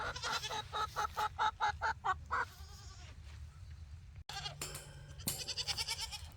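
Goats bleat and chickens cluck together on a homestead, a rapid run of close, rhythmic clucks and bleats, then a pause, then more overlapping calls from the animals nearby.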